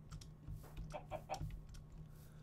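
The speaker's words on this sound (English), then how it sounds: "There's so many chickens." Chickens cluck softly in the video game Minecraft, several short faint clucks scattered over a low hum with no voices.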